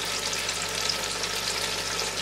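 Steady, dense sizzling and crackling from ginger garlic paste frying in hot oil with tomatoes in a pan, close and continuous with no pauses.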